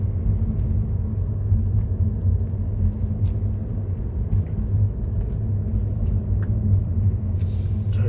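Steady low road rumble from a Mercedes-Benz car's underbody while driving, a continuous loud drone with faint clicks and bumps above it throughout.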